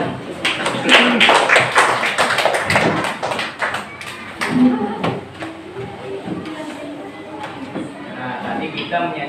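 Children clapping their hands in a classroom after singing a learning song, a loose run of sharp claps and taps up close, mixed with voices and chatter.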